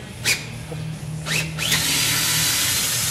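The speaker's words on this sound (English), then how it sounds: "Now we got the right drill action going on." A power drill whirs up and runs steadily, loud and close, after a few brief clicks and knocks, while train horns are being fitted to a truck.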